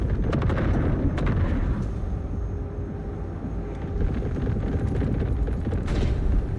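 Mortar fire and other heavy weapon blasts from the video game Cyberpunk 2077 form a dense, continuous, rumbling barrage of low booms and crackling impacts, loud and sustained with no talk over it.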